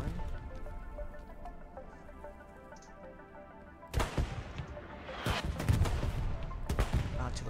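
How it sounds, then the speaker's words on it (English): Artillery fire in Cyberpunk 2077 Phantom Liberty, played on the hardest difficulty, landing as sharp bursts and rattling crashes that grow louder and busier after a quieter stretch of low ambient tone. "Artillery's getting close."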